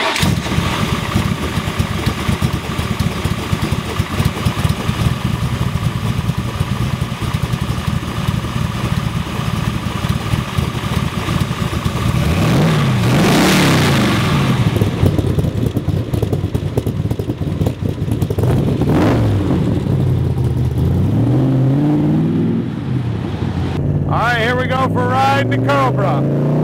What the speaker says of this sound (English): you got that beautiful sound coming out of those headers there